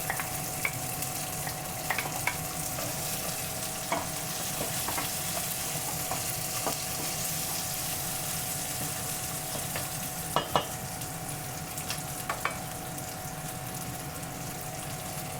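Garlic fries in a pan for tomato rice with a loud, steady sizzle, broken by occasional clicks and scrapes of stirring and no talking.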